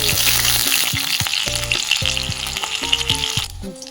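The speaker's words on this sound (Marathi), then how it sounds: "त्यासाठी आपण छान मिरच्या फ्राय करून घेऊया." Green chillies fry in hot oil in a loud, continuous sizzle that keeps going, with repeated clatters of a spoon or spatula stirring the pan, all close and with no talking.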